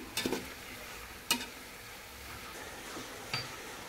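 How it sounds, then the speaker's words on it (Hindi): A pan of onions for chicken biryani fries quietly, with a soft steady sizzle and a few sharp scrapes and clicks as a spoon stirs them at irregular moments. "जब पूरी तरह से ये हमारी प्याज फ्राई हो जाएंगी"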